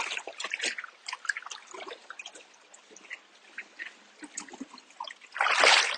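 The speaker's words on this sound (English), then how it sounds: "Next, you'll drag the bag through the water" An AquaBLAST 20-liter water bag is dragged through water, giving soft trickling and splashing in uneven pulses that swell into a louder, fuller rush of water near the end.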